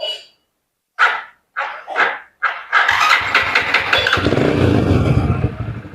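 A motorbike is switched off and back on with a diagnostic scanner attached, giving a few short separate bursts before the engine catches at about three seconds and runs steadily, loud and close.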